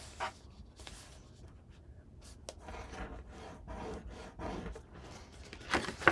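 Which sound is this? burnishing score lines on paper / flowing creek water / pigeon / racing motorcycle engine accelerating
burnishing score lines on paper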